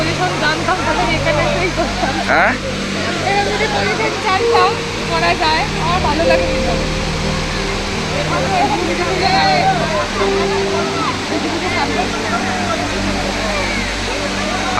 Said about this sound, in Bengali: তিনটে জায়গায় জল এসে একত্রিত হয়ে এখান থেকে এই দুটো ধারার মাধ্যমে নিচের দিকে নেমে আসছে